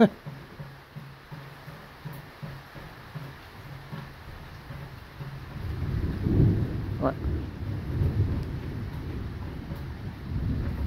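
Thunder rolling during a violent thunderstorm, a deep rumble building and swelling through the second half with rain and wind noise on the microphone, loud and close.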